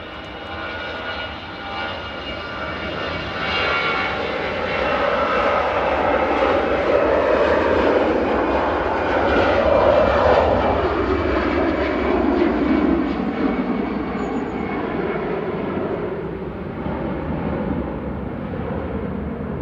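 Lufthansa Airbus A320 jet departing Manchester Airport, a loud sustained engine roar that builds, holds steady and then slowly fades as it climbs away, with no talk over it.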